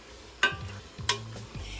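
Ground beef browning in a pan for lasagna, soft sizzling broken by a few stirring scrapes and clatters of the utensil against the pan, close and fairly quiet, with no voices.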